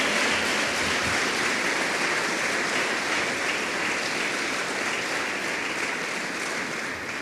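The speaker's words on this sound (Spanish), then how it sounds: "Fuertes palmas para el Señor." A church congregation claps together for the Lord, a dense, steady wash of applause that fills the room evenly throughout, with no voices standing out.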